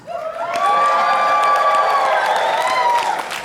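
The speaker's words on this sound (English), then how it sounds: "Hold for minimal applause." A crowd at a Halloween entertainment panel cheering and applauding loudly, with whoops and sustained tonal shouting over dense clapping.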